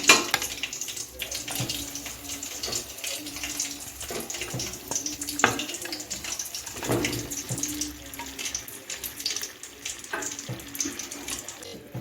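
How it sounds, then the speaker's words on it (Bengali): Fried chicken pieces dropped into sizzling masala for a chicken jhaal fry make a dense continuous hiss and crackle, with scattered clacks and scrapes of a spoon in the pan, close and steady. "এখন আমি ভেজে রাখা মাংসগুলি দিয়ে দিচ্ছি"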